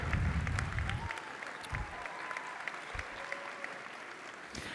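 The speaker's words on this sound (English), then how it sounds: "You should clap." Quiet, scattered clapping from an audience at a 2018 high school academic awards assembly, heard from a distance with a few sharper claps standing out over a low, uneven patter.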